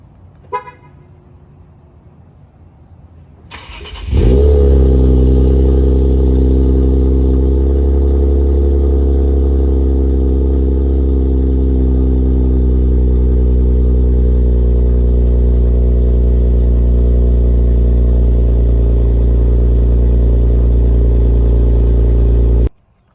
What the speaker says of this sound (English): The car has been like sitting for like 24 hours, so this should be a pretty nice cold start.